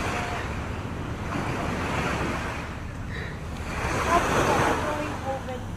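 Sea waves wash onto the shore at a beach, a continuous broad surf roar that swells and recedes, with wind buffeting the microphone and faint voices in the background.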